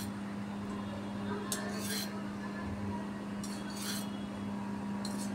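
A pan is handled in a home kitchen while oil goes in for bhogichi bhaji, a Maharashtrian mixed vegetable dish, with brief metallic clinks and scrapes over a steady low hum and no talking.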